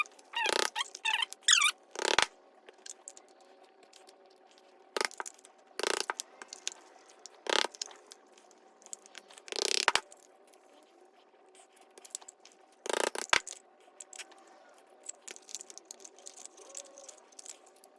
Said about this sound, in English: you're just going to poke holes all the way around, kind of symmetrical